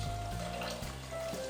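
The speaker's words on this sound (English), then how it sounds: "now, while I'm putting some water in here" Tap water runs steadily into a container being filled to clean hog maws and chitlins, a continuous close splashing rush with a low filling tone, no talking.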